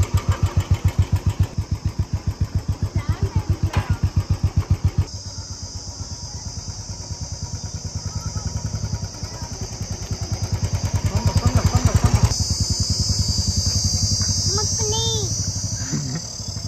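A motorcycle engine chugs in a steady rhythm at close range, then the bike pulls away in first gear and the engine note rises and settles, with people talking over it throughout.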